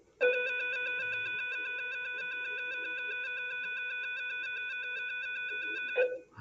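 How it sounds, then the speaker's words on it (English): A long school bell rings in a classroom, holding one steady, loud electric tone for about six seconds before cutting off abruptly. "Wow, that was a long bell."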